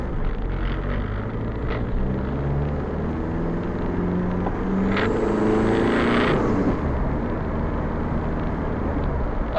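A Volkswagen engine revs from inside the car, a loud, continuous low rumble that swells into a stronger surge about midway before settling back to a steady drone.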